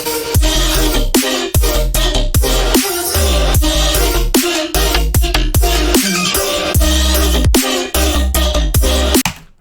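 Loud electronic dance music drop from a remix with heavy pulsing bass hits and a chopped vocal chant repeating on the offbeats in a driving rhythm.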